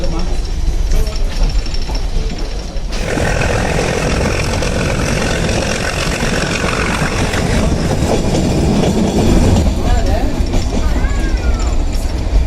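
A small toy train at a hill station in Ooty rumbles along its rails with a continuous rattling clatter. The noise swells louder partway through, and voices are faintly mixed in.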